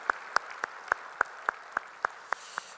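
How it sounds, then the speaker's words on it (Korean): A church congregation claps in unison during a worship service, with about ten evenly spaced, sharp claps in a steady rhythm, faint and slightly distant, and no talking. "우리 찬양을 받으신 주님께 영광의 박수 올리겠습니다"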